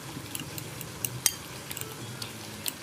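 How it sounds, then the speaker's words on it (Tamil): Beaten egg being mixed with meat curry in a bowl for mutta kallaki, with light, irregular clinks and taps of a utensil against the bowl over a soft wet stirring hiss. The sounds are close and fairly quiet. "இது எல்லாத்தையும் நல்லா அடித்து மிக்ஸ் பண்ணிக்கலாம்"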